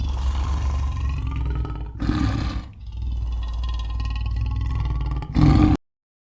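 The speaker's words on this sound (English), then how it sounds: "Leopard makes the sound." A leopard gives loud, rasping roars in a few heavy bursts, with a short gap and a final strong burst before it cuts off; no talking.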